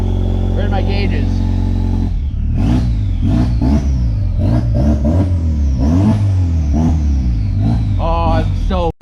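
Rear-wheel-drive Ford Fusion engine revving repeatedly in loud, rising and falling sweeps over a steady idle, with a person's voice heard over the engine early on.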